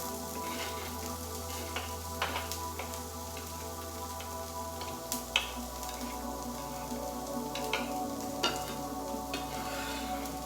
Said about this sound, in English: And then we're going to start slowly cooking these onions with the ginger.